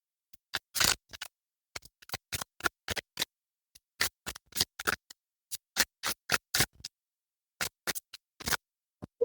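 Crisp bursts of tarot cards riffling and flicking together, irregular and close, separated by silent pauses.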